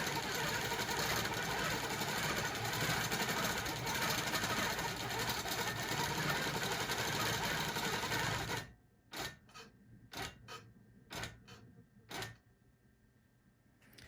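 A sewing machine stitches a Lone Star quilt in one continuous close whir for about eight seconds, then stops and gives several short separate bursts of stitching.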